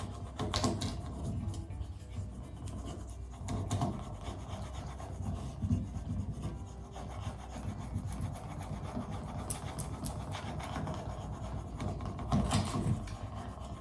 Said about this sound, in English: you just put some pressure on there and you just rub right over the top of it